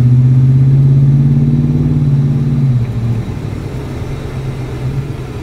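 A Ford Raptor pickup, bought cheap and said to have a transmission problem, drives with a loud, steady engine drone close by. Partway through, the engine note drops as the gearbox shifts up, then it carries on at a lower, rumbling pitch.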